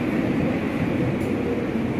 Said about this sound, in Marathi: आमची देखील ट्रेन आली.